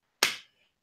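A single sharp hand clap rings out close and loud, a crisp burst that fades within a quarter second and leaves silence around it.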